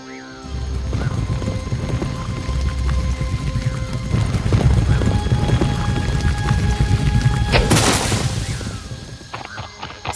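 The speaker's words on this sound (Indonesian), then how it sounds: "Dia menaiki kudanya dan berlari menuju Mile Cross dengan cepat." A horse gallops toward Mile Cross at midnight, its dense, rapid hoofbeats loud and continuous alongside clattering, wind-like noise, with a brief bright burst late on and no talk.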